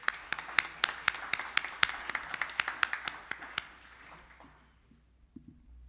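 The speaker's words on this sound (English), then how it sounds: "So everyone, also a round of applause for the judges." A small audience at a New York tech meetup claps for the judges, a sparse run of distinct, loud handclaps that thins out and fades, leaving near quiet with a faint voice at the end.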